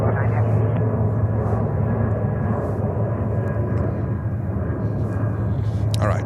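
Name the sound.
Delta Boeing 737 jet taking off at JFK airport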